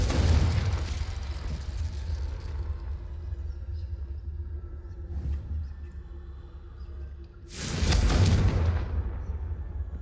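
Confringo explosion spells from Hogwarts Legacy go off in two loud booming blasts, one at the opening and a bigger, rumbling one near the end, with a low steady rumble sustained between them.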